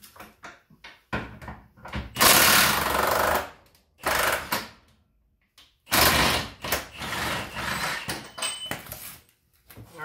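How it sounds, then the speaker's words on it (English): Impact wrench with a 17 mm socket removing transmission bolts on a Honda Civic during automatic transmission removal; several loud rattling hammering bursts of a few seconds each, separated by short quiet pauses. "just going to use my impact and the 17 millimeter to remove these bolts."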